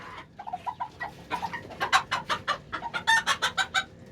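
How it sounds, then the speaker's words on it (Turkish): A rooster and hens cluck in quick, repeated bursts close by while eating, the calls growing busier and louder toward the end. "Horozumuz da happur hupur yiyor"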